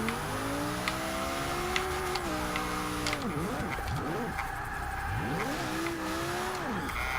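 1991 BMW M3 engine lapping a track in Forza Motorsport 6, revving up through gears with repeated rising pitch sweeps and dips at shifts and braking, loud and close, with faint tire noise.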